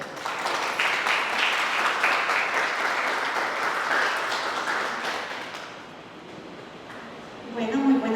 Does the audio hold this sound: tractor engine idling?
no